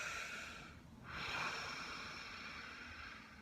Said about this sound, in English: I've been taking aggressive breaths today.